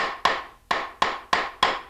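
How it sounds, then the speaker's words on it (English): A mallet drives the wooden legs of a Kromski Interlude spinning wheel into place, five sharp knocks at a steady pace, close and resonant, with no talking. "we recommend a hammer or a mallet and drive these"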